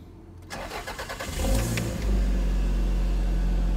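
A turbo 1993 Toyota MR2 cranks with a rapid rhythmic starter churn for about a second, catches with a rising roar, then settles into a steady, loud, close idle hum.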